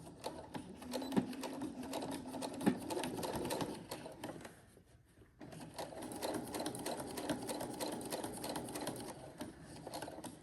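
Sewing machine stitching around a fabric ruffle bag, a rapid steady mechanical rattle that pauses briefly near the middle and then resumes, close and alone.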